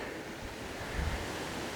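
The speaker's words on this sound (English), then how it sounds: "the way the water sounds, it sounds like there's quite a bit of water" Water rushes steadily through a river in the Camdeboo Conservancy farmland, a broad continuous roar heard from a short distance with some wind, no talk over it.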